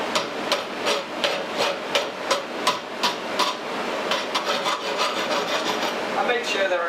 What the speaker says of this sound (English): you give it a little rasping